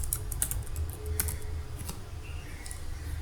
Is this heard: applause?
no